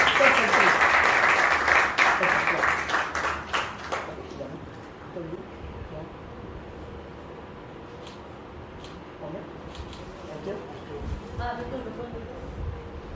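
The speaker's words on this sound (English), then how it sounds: "Alright guys, can we have a round of applause?" Enthusiastic group clapping at a school farewell event for around four seconds, then fading to a few stray claps, chatter and small knocks in the room.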